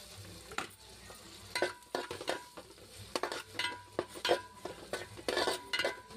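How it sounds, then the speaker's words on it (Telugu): Onions and tomatoes fry in a home kitchen pan, a steady sizzle broken by repeated scraping stirs and light clinks of a spoon against the metal, close and moderately loud. "ఉల్లిగడ్డ అయితే మంచిగా వేగింది. ఇంకా టమాటాలు వేసేస్తున్నా."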